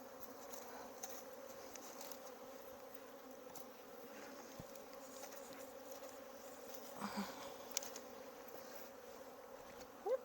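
Honey bees hum steadily around an opened hive with natural comb, a soft continuous drone with faint scattered clicks and rustles from handling the frames.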